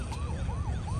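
An ambulance siren wails in quick rising and falling sweeps, heard at moderate distance over a low street rumble, with about three cycles repeating evenly.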